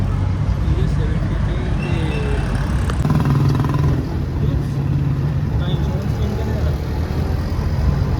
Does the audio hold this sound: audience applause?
no